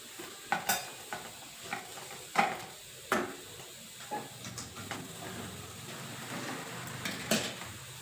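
Oil and a spoonful of ghee heat in a pan at the start of carrot rice, a soft sizzle under scattered clinks and stirring knocks of a utensil against the pan, close and fairly quiet.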